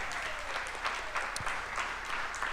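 A crowd applauds steadily at a live Green Bay Packers fan event, a sustained wash of clapping from a sizable audience, moderately loud with no talking over it.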